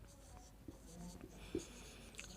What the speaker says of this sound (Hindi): पहला पॉइंट यहाँ पर लिखेंगे